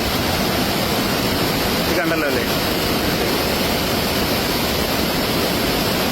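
Floodwater on the Iravinji river rushes past in a loud, constant, close roar, with a brief voice speaking over it partway through.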